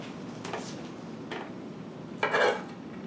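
A metal baking pan handled while mushroom caps are filled, a few light clinks and taps, then a louder scraping rattle of metal near the end, no speech.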